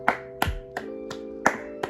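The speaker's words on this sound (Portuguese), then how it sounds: "Palmas pro Daniel também, ó." Six sharp, separate hand claps in a slow, uneven rhythm, close and fairly loud, with a faint tone lingering between them.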